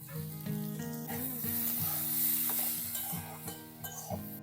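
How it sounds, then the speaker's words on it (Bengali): A spoon stirs chira pulao, Bengali flattened rice pulao, in a pan, making soft repeated scraping and stirring sounds over a faint background sizzle, close and fairly quiet. "কিছুক্ষণ পর খুলে আরেকটু নেড়ে দেবো"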